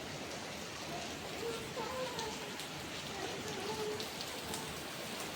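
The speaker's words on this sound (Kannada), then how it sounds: "ಭಾಳ ಮಳೆ ಅದ ನೋಡ್ರಿ." Steady, heavy rain pours down continuously, a dense hiss of drops on surfaces with faint voices underneath.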